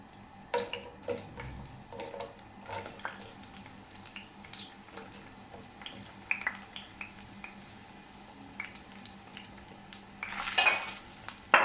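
Onions fry in a tablespoon of hot oil in a pan, giving a quiet steady sizzle with scattered spatula scrapes and utensil clinks, then a louder hissing burst near the end.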